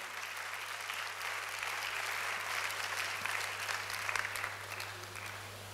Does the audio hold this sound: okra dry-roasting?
no